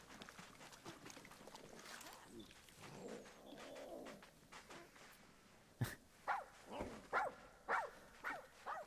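Sand cat kittens in a zoo-building video game, Arid Animal DLC, give a series of short, sharp barking calls, about six evenly spaced yips in the latter half, following quieter mixed ambience and faint voice.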